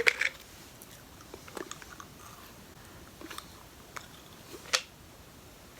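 Soft, sticky chewing close to the mouth, with a few sharper clicks and smacks spread through an otherwise quiet stretch.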